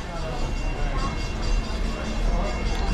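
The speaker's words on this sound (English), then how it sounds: "I can hear the train, the Magic Kingdom train going by" The Magic Kingdom train at Disney World rolls past, a steady low rumble of wheels and cars behind the crowd noise of a theme park, with people talking over it.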